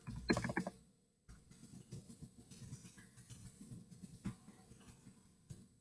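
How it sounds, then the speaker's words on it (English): Faint keyboard typing during a library storytime livestream: soft, quiet key clicks patter unevenly after a short louder burst and a moment of near silence. "Oops, typing that wrong."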